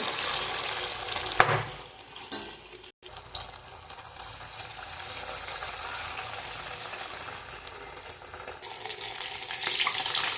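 Sabudana vadas fry in peanut oil, a continuous hissing sizzle with a brief clatter and a short dropout early on, staying steady to the end.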